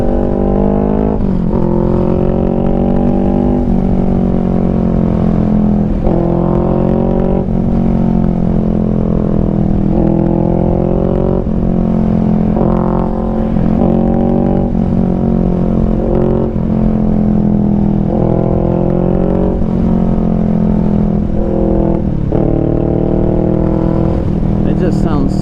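Honda Rebel 500 motorcycle fitted with a DBK aftermarket exhaust, loud and close, revving repeatedly through rising pitches with downshifts between, a rhythmic run of rev-and-drop cycles.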